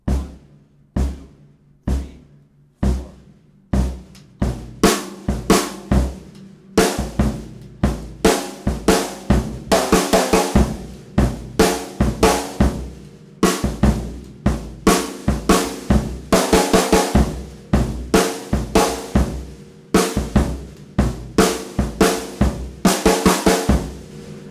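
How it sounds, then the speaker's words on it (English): Sharp rim-shot snare accents crack out alone in a syncopated pattern, sparse at first and then coming in dense, rapid bursts, close and loud. "Those are just the snare accents, which are rim-shotted."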